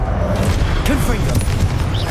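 Confringo fire spell explosion in the video game Hogwarts Legacy, a dense, continuous booming roar with crackling bursts under a loud wash of game noise and a voice.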